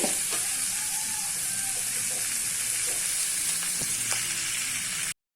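Chopped onions frying in oil in a pan for tapioca adai, a steady close sizzle throughout with occasional light scrapes of stirring, no voices.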